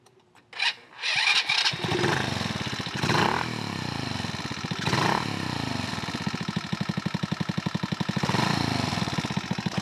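An offroad kart engine cranks briefly and then catches, settling into a loud, rapid chugging idle close by with a few surges in speed.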